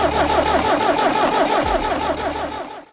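A Ford 6000 tractor engine from the early 1960s runs with a dense, continuous rumble and a rhythmic throb, loud and close, briefly dipping in pitch near the end as it eases off.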